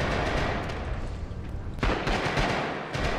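Gunfire in the video game Rising Storm comes as dense, loud crackling bursts. A heavy, close volley hits near the middle and the rattling continues after it, with no voices.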